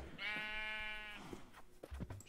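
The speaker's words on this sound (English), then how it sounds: "shave the sheep" A single sheep bleat from Minecraft, one clear sustained tonal cry lasting about a second, followed by faint clicks and game sounds.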